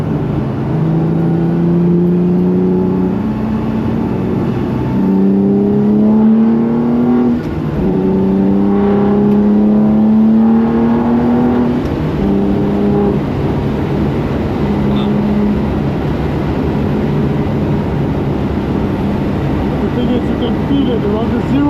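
HWA EVO prototype car driving on the Nürburgring, engine revving up through gears in repeated rising sweeps, loud and close from inside the cabin, with voices talking over it.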